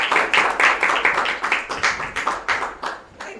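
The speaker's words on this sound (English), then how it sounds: "Please give a big applause." Applause from a church leadership gathering audience, a steady run of close, fairly loud hand claps in quick rhythm that starts to thin out near the end.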